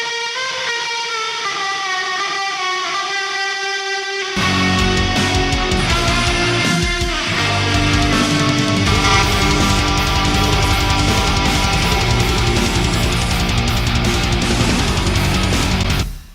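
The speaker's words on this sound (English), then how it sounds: "And then reverb." Sustained guitar chords ring out with a heavy, washy reverb tail, opening thin and sparse before a fuller, louder wall of sound takes over.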